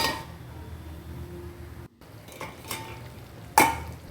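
Spoon stirring thick fish curry in a pot, with soft sloshing and scraping, a brief pause, then a sharp metallic clink near the end.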